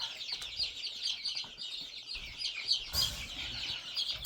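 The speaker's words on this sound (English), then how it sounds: "we've got to transfer all 34 of these chickens into this one so we can clean that one" A crowd of about 34 chickens, including leghorns, clucks and chirps busily inside a coop, a dense, continuous chatter of overlapping calls at close range.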